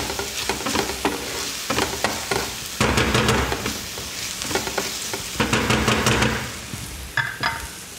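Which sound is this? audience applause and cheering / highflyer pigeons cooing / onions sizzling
onions sizzling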